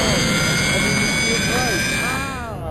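A vehicle engine accelerates at full throttle, a loud sustained roar with whining tones that climb and bend in pitch. Excited voices can be heard briefly over it.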